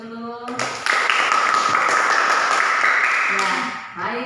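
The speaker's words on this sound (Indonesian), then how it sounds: "Berikan aplaus dulu." A school class gives group 1 a round of applause: a sustained burst of clapping from many hands, loud and steady for about three seconds, with a teacher's voice before and after.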